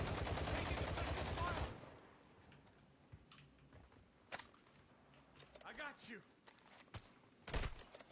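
Video game gunfire opens as a loud, dense burst of rapid shots, then scattered sharp cracks and thumps follow under excited player chatter.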